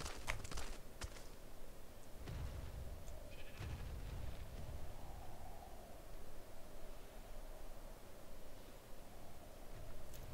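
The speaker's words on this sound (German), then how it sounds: "Da ist ein Schaf, oder?" A sheep bleating in the survival video game ARK, faint and distant, with a few quiet bleats over a soft hiss and light footstep-like rustles.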